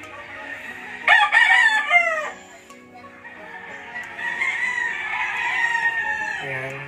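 Gamecock roosters at a farm crow loudly and close by, one strong crow followed by further drawn-out crowing and clucking from several birds.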